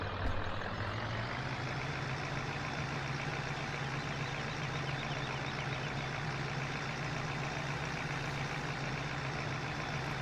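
A truck in Farming Simulator 17 tows a loaded tilt trailer, its engine holding a steady, loud drone with a low hum that stays constant and close for the whole stretch, with no talk over it.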